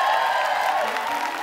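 A game-show studio audience applauds three contestants, with steady, dense clapping and some crowd noise throughout the moment.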